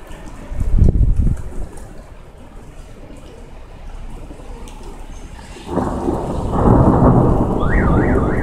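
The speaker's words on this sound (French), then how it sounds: "Voici donc le petit extrait en rapport avec l'orage que bien sûr vous pourrez retrouver sur ma chaîne." A thunderstorm in Amiens brings a sharp, close thunder crack, then a quieter stretch before heavy rain swells and pours steadily on surfaces, with a faint warbling alarm in the background.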